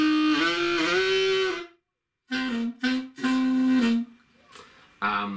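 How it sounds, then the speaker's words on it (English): Harmonica played with a hummed voice over the blown note, giving a strong buzzing growl in several sustained bursts separated by short pauses, close and loud with no talking. "And if you really want to make a growl"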